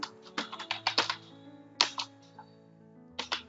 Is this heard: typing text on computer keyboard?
yes